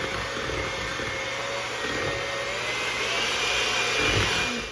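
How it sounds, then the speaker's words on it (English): A handheld electric mixer whirs steadily at medium speed through cinnamon roll cake batter, a continuous close, even motor drone with no talking. "I don't have a stand mixer, I just have a regular mixer"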